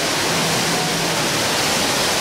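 Water sprays steadily in desert heat, a dense, even hiss of falling water, close and loud, with no talk over it.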